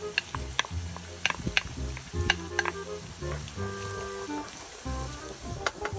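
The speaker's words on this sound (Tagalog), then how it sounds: "Tapos isusunod ko na rin yung aking sibuyas" Onion sizzles and crackles as it fries in chili garlic oil, with irregular pops and stirring clinks against the pan, close and moderately loud.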